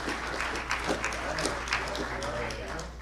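Crowd applause at a youth hockey draft event, fairly quiet and distant, with scattered clapping bursts rising and falling under a low constant hum and faint voices in the room.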